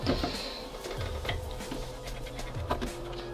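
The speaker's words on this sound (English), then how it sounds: "So we're going to unscrew with my famous screwdriver." A screwdriver unscrews the CPU heatsink screws inside an opened Dell R320 server, giving a series of close, irregular ticking and clicking sounds over a low mechanical background hum, with no talk.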